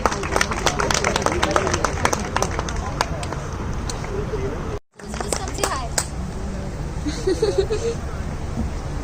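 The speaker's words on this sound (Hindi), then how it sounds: "Huge round of applause for beautiful beautiful Manisha Lamba जी। तालियां बजा दो गाइस।" Audience applauding for Manisha Lamba at a Mr India 2020 event, a dense, steady patter of clapping with crowd noise and voices mixed in, briefly cut out midway before resuming at full strength.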